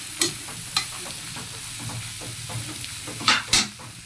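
Pork dinuguan being stirred in a frying pan, with a steady low sizzle under a few sharper scrapes and clacks of the spoon against the pan, close and fairly loud.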